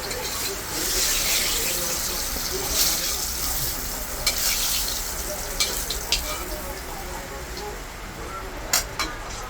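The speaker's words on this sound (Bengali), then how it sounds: "ভালো করে লাল লাল করে মাছও বাজিয়ে রাখছি" Fish frying in hot oil until reddish-brown, a steady close sizzle with stirring clatter and a few sharp utensil clicks, with some water-like splashing in the background.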